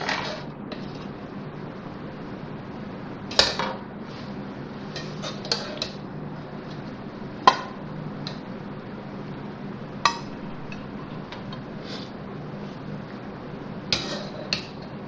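Beef degi biryani is scooped from a cooking pot into a serving dish, with scattered metal spoon clinks and scrapes against the pot over a quiet kitchen background.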